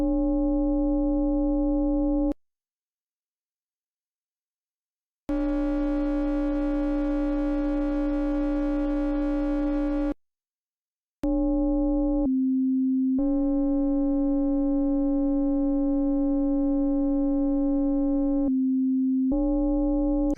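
Voltage Modular Zeroscillator with a saw wave modulating a sine wave: a steady harmonic-rich synth tone sounding in several sustained segments split by short silences, some brighter and buzzier, others a purer, smoother hum, loud and alone.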